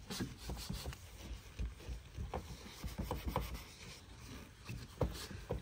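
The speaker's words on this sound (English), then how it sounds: "get a clean section on the microfiber, wipe it down" Microfiber cloth wiping down a car's paintwork, soft irregular rubbing strokes heard up close and quiet, with no voices over them.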